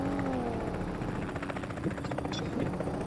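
A helicopter approaches in the battle-royale game BGMI, its whirring rotor drone steady in the background while players talk over it.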